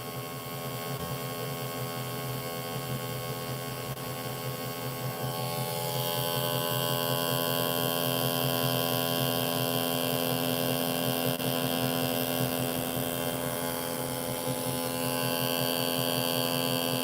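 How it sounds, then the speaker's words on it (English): A homemade pulse motor built with N52 neodymium cube magnets runs continuously, giving a steady electric hum with a buzzing whine that grows slightly louder partway through, with no voices. "It is an electric motor."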